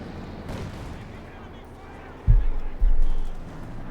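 Company of Heroes 2 battle gunfire, with a Panther tank and a .50 cal machine gun in the fight, heavy booming blasts landing in two loud bursts over a rumbling background while a commentator talks.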